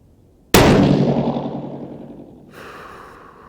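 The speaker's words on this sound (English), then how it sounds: "First shot, cold bore, 100 yards." One loud, close 6mm Creedmoor rifle shot, fired from a cold bore at a 100-yard target, makes a sharp blast that rings and decays over about two seconds. A faint softer sound follows afterward.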